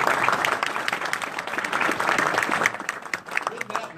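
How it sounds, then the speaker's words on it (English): Audience applause at a candidate forum for Alaska governor in Soldotna, lively clapping from a room full of people that swells, then thins toward the end, with some voices mixed in. "With that nice applause, I'm going to ask that we don't applaud after each candidate's answer"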